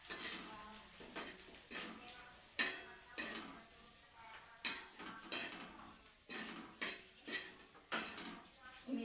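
Chili powder being stirred into softened onion in a pan, with repeated scraping and clanking of a spoon against the pan in an uneven rhythm over a faint sizzle, close-up and fairly quiet.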